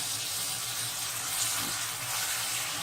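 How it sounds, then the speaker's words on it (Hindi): Half a glass of water is poured onto green peas cooking in a pot for matar pulao, a steady close hissing splash and sizzle with no talking. "अब मटर में मैं तकरीबन आधा ग्लास पानी डालकर इसको थोड़ी देर के लिए"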